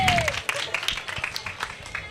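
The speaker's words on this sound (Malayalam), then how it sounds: "നല്ലൊരു കൈയടി." Applause from a crowd of students after a song, a dense burst of clapping with scattered shrill whistles and voices mixed in throughout.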